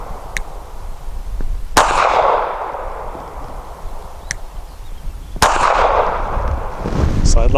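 Two sharp, loud pistol shots from a Sig P365 firing heavy PPU 158 grain subsonic ammunition, each followed by a brief ringing decay, with faint metallic clicks in between.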